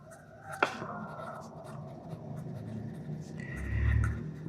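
Pen scratching across paper while working out a Pythagorean theorem problem for a class 8 math exercise, with soft irregular strokes and a low rumble near the end and no speech.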